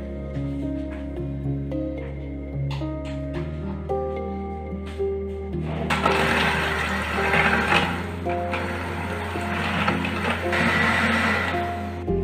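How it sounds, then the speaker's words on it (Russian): Eggs with vanilla sugar whisked into a fluffy foam, likely with an electric mixer: a steady mechanical whirr with a low motor hum that grows louder and busier halfway through and runs continuously to the end, with no talking. "Все теперь это взбиваю в пышную пену."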